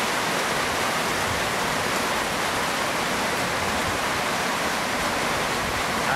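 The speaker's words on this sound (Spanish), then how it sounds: "Llueve acá en la ciudad de Cali, llueve en Siloé." Steady rain pours over the hillside neighbourhood of Siloé in Cali, Colombia, a dense, unbroken hiss that stays loud and even throughout with no voices.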